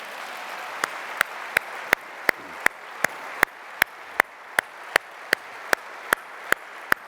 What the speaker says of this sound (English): I think that one kind of deserves a round of applause.